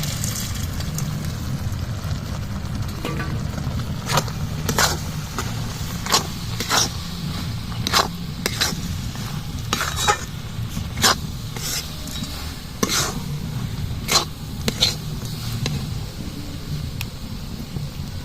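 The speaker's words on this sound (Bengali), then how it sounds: "এবার দিয়ে দেবো চীনাবাদাম বাটা।" Peanut paste is stirred into coconut in a hot pan, with a soft continuous sizzle and repeated sharp scraping strokes of a spoon at a steady rhythm.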